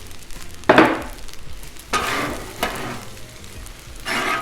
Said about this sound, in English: let's throw these green onions in.